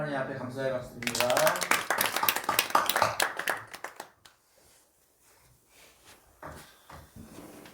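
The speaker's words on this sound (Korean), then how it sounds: "하나님 앞에 감사의 박수 드립니다." A church congregation claps together, a burst of dense, lively applause that follows speech and song and dies away after a few seconds, leaving quiet room sounds.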